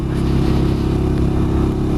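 Benelli 400 Imperiale motorcycle single-cylinder engine held in third gear around 4,000 revs, a loud steady low throb with even pulsing and wind rush, no talk over it.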